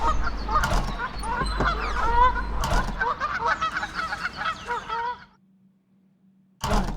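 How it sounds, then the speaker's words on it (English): Geese honking repeatedly in a busy, overlapping chorus, fairly close and loud, then a brief lull before more honks start again. "We get our geese coming in."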